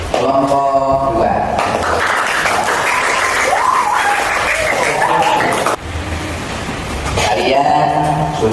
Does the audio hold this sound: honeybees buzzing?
no